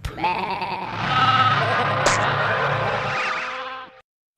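A sheep gives a single drawn-out, wavering bleat that lasts about four seconds, close and clear with nothing else around it.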